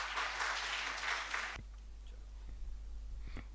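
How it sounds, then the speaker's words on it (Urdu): Audience applause in a higher-education auditorium, a brief burst of clapping that stops abruptly, leaving quiet room tone with a few faint clicks. "آپ کی بھرپور تالیوں میں"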